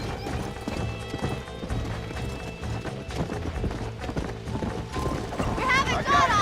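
Wild horse hooves clip-clopping in the Red Dead Redemption video game, a steady busy rhythm under dense game music and mechanical clatter, with a brief whinny-like burst near the end.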